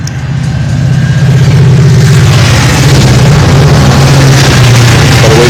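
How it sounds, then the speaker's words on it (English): A train rumbles past a workshop, loud and close, its steady low engine drone and rhythmic wheel clatter swelling within the first second and holding strong without talk. "Gotta wait for that train to go by"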